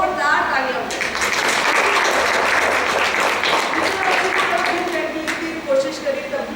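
Loud, sustained applause from an audience at a Rotary club gathering in Bundi, a dense wash of clapping that swells and carries on for several seconds, with voices and crowd noise mixed in.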